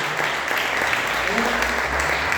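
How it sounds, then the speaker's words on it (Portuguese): Congregation applauding during a church anniversary service, a brief continuous wash of clapping with voices audible underneath. "Você pode aplaudir ao Senhor."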